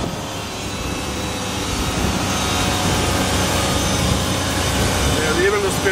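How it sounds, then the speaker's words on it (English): Sea Ray 240 Sundeck boat from 2005 with its engine running at speed, a loud steady roaring drone with rushing wind and water noise, close to the listener throughout, rising slightly partway. "I would say it runs right on the factory specs, so engine seems very healthy"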